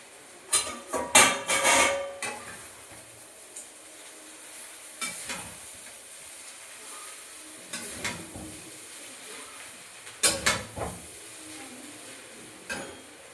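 Chow mein noodles go into a hot pan and are stirred, giving loud bursts of scraping and clattering separated by quieter stretches of sizzle.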